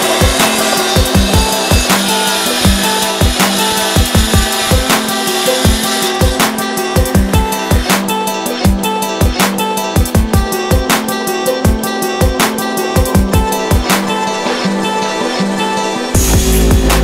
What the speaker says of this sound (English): So we're gonna do the angled cut on this side too,